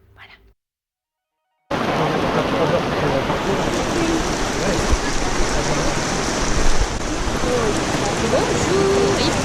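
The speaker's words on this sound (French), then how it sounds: "il pleut très fort" Heavy rain pouring steadily on a tropical island in the Seychelles, a dense broadband hiss of drops on surfaces that starts abruptly after a short silence and holds loud and constant, with a few faint higher tones and bumps beneath.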